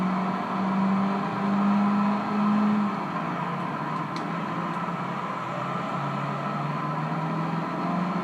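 A car engine in the PS2 racing game Gran Turismo Concept 2002, a steady droning hum that rises and dips slightly in pitch, loud and continuous, with no talking.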